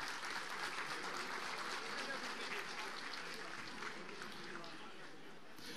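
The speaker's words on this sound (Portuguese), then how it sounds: "uma salva de palmas" Applause at an outdoor political rally defending democracy, with dense clapping spread across the whole stretch, steady and fairly loud, mixed with crowd chatter and voices underneath.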